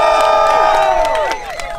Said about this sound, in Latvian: skaļas ovācijas